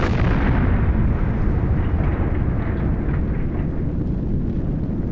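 A loud, sustained roaring rumble of explosions at the Chernobyl nuclear reactor, set off by a power spike, with a sharp onset that slowly fades into a heavy low boom.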